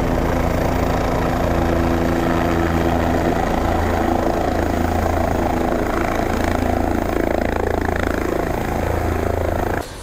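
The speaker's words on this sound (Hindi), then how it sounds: "तो यहाँ पर देखो हेलीकॉप्टर आया है ये" A helicopter landing nearby in Manali, Himachal Pradesh, its rotor chopping and engine whining loud and continuous, dropping off abruptly at the very end.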